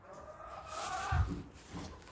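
Chickens near a backyard coop give soft, low clucks, faint and close, in a short burst with quiet outdoor background.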